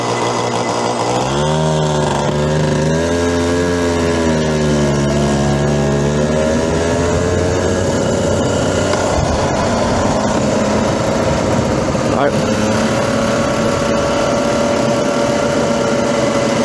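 A small, high-pitched race car engine revs up and down loudly nearby during a time attack, its pitch rising and falling before settling into a sustained, buzzing drone.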